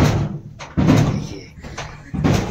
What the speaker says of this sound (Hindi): वो भी दरवाजे में पीट रही है।